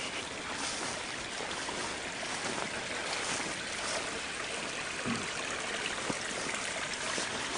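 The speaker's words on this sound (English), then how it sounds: "Anyway, this is Trail Creek." Trail Creek, a mountain creek at its headwaters, flows with a steady broadband rush and burble, continuous and close, with no talking.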